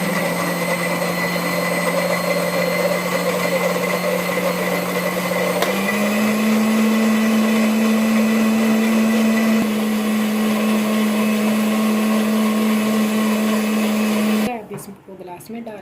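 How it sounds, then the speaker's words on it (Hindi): Electric mixer grinder blending a summer drink, a loud steady motor whine running continuously for about fourteen seconds, pitch stepping up slightly partway through, then cutting off abruptly near the end. "इसको भी ग्राइंड कर लेंगे।"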